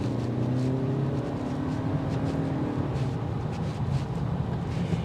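A 2025 Toyota Camry SE on a test drive, its engine a steady low hum with droning tones that rise briefly, heard from inside the car with continuous road noise and no talking.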